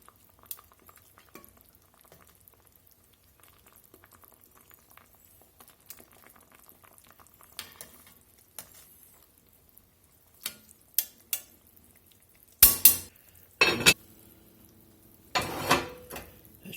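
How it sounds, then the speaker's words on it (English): Shoyu chicken simmers in a pot, a soft low bubbling that runs quietly throughout, with a few sharper clatters and stirring knocks near the end. "The old chicken's been bubbling here about 25 minutes."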